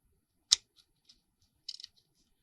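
Scissors snip through paper trim for a handmade sunflower journal: one sharp close cut, a couple of faint clicks, then a quick cluster of three or four short snips, with no talking.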